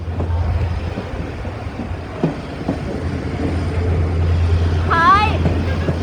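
A train pulls into a station near Jaffna with a low steady rumble, then sounds a loud rising-and-falling horn toward the end, with faint clanks in between.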